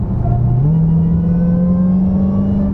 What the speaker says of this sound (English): this bigger Redeye supercharger is it whines even more than a regular Hellcat, and it is just hilarious how much this thing whines